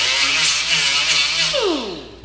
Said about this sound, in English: take your sanding disc